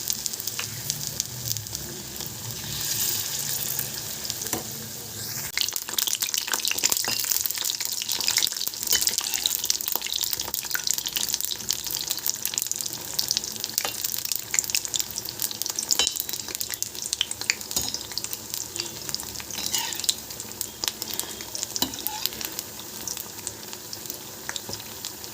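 Prasad frying in a pan of oil for Maghi Purnima, giving a loud, continuous close sizzle with splutters and crackles that swell after a few seconds and carry on without speech.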